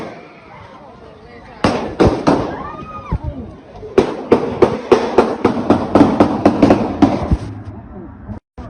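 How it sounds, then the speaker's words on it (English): A rapid burst of sharp gunshots rings out during a street brawl, about a dozen cracks in quick irregular succession, loud and close, with raised voices and shouting mixed in before and between the shots. "Gunshots rang out and chaos erupted."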